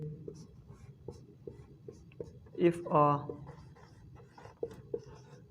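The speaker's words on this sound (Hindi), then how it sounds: "डेफिनेशन लिखता हूँ हम पहले।" Marker or chalk taps and scratches on a classroom board while a definition is written for a chemistry lesson, faint and intermittent, with a voice speaking briefly in the middle.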